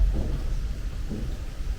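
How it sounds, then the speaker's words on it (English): Deep thunder rolls through a rainstorm outside an old house, a continuous low rumble that swells twice over about two seconds with no voices. "Because of the thunder?"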